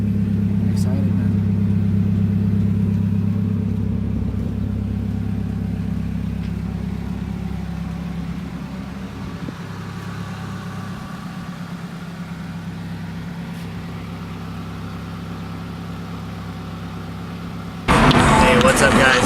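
A 1992–96 Toyota Camry running down the road, its steady low engine hum and road rumble carrying on continuously under talk inside the cabin, ending in a brief burst of louder broadband noise.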